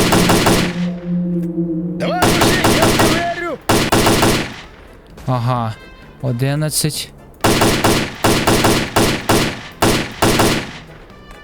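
Bursts of automatic gunfire from the S.T.A.L.K.E.R.: Clear Sky shooter, loud rapid volleys repeating across the clip with short gaps, a brief spoken word between them.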